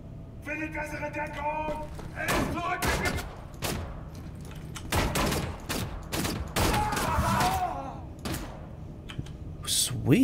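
Rapid bursts of sci-fi energy-weapon fire in Wolfenstein: The New Order, on a mission to the Moon, crack out in several sharp volleys with clattering impacts, while someone talks over the action.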